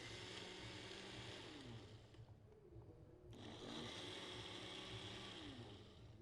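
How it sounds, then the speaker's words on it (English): A small blender whirs loudly with a steady motor roar, briefly easing and then surging again, while ice is crushed for corn and cheese ice cream at a live kitchen demo at the 2017 McHenry County Fair. "In my little blender here, let's give it a try."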